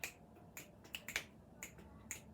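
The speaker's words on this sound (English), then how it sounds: "you can't snap your fingers?" Finger snapping indoors: about eight to ten sharp, crisp snaps in an uneven rhythm, close but fairly quiet over a faint background hum, without any voices.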